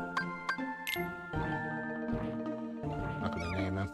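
Meow Wow, a cat-like spirit companion in Kingdom Hearts Dream Drop Distance, gives short tinkling, chiming cries amid bright game jingles and music, clear and upfront.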